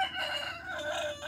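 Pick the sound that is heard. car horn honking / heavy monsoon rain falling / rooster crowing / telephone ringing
rooster crowing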